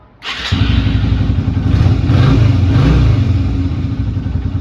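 A Yamaha Virago 250 motorcycle engine starts up and idles loudly close by through its exhaust, a deep steady rumble with a brief rev in the middle, no voices.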